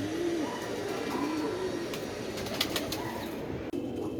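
A pigeon shown close up, giving low soft cooing among faint background bird calls and a few brief clicks and taps, with no voices.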